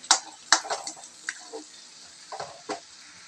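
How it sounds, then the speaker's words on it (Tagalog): Garlic with chili in melted butter gives off soft, scattered sizzles and light stirring clatter, faint and without talk. "hintayin lang natin ito matuloy yung butter natin. Saka maluto yung bawang"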